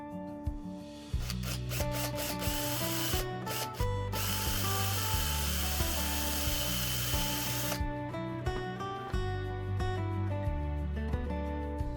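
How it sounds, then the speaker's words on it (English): A power drill whirs steadily through a wooden tree-trunk piece, its motor pitch dipping and rising in short bursts as it bites, with brief pauses between runs. "We drill a hole in the tree trunk, slightly smaller than the screw diameter."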